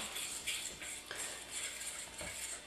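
Crepe batter made with almond milk being whisked in a bowl, a quick series of light metallic clinks and taps of a utensil against the bowl over a soft, continuous swishing, close and fairly quiet with no talking.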